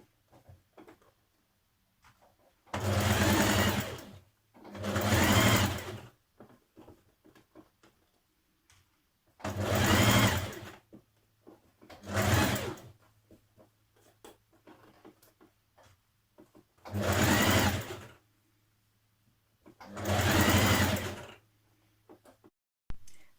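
A sewing machine stitches a sleeve into a Simplicity 1461 tunic in six separate bursts of rapid, even whirring and clatter. Quiet pauses fall between the bursts, and a faint hum runs under everything.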